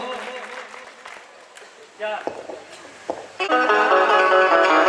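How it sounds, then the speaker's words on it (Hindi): Audience applause for a singer and dancer at a Hindi folk music performance builds from scattered claps into loud, sustained clapping near the end, with a voice and music heard before it. "एक बार अपनी राई और नृत्यांगना के लिए जोरदार ताली बजाए"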